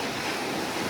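Rushing river water roars steadily beneath a shaking footbridge in Takhar, Afghanistan, a broad, loud wash of noise with wind buffeting the microphone and no talking.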